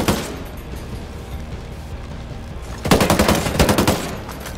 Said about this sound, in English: headshot with an LMG